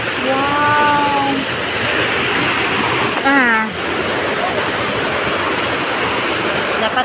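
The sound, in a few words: flowing water at Hong Kong Park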